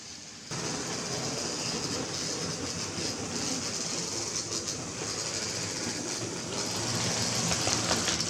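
An OO gauge model of a 1950s Irish mixed goods train with short four-wheel wagons runs around a layout, giving a steady, continuous rolling rumble and light clatter that holds level throughout, with no talking.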